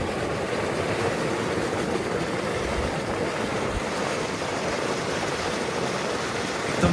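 Boiling water at the Chumathang hot spring in Ladakh, a steady dense rushing and bubbling roar that holds constant throughout, with no voices.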